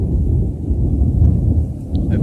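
Thunder rolling through a summer thunderstorm on the eve of a blood moon eclipse, a loud, continuous low rumble that swells and settles across the whole stretch with no voices.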